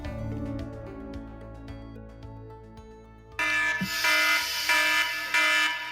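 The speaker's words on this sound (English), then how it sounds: "Kellis Robinett, you heard the alarm sounding." An alarm sounds after a stretch of tonal, buzzing notes, then a loud, harsh, broadband blare takes over and pulses on for the last few seconds.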